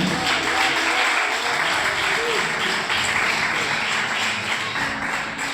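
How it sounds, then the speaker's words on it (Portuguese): A congregation claps together in praise during a church sermon, a dense, steady wash of applause filling the room for several seconds with some voices mixed in. "As palmas que louvam o nome do Senhor"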